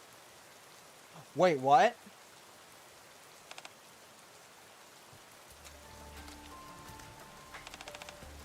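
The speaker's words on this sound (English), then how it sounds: "Taking in the rain." Steady, soft rain falls in a video game as a faint, continuous hiss, with brief speech and light game sounds over it.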